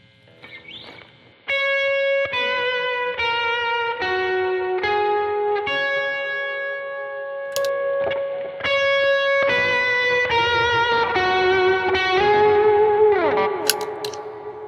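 Distorted electric guitar plays a sustained melodic lead line through a large plate reverb setting, each note ringing into a wide, shimmering reverb tail that lingers after it stops.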